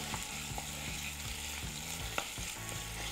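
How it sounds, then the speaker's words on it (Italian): Crumbled sausage frying in hot oil in a pan, with a steady soft sizzle and occasional stirring clicks throughout, fairly quiet and with no talking. "Nell'olio caldo verso la salsiccia. Faccio sfrigolare per bene"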